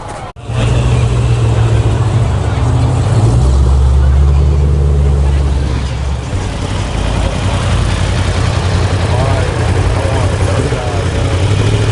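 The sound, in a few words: Infiniti cars pulling in at a car meet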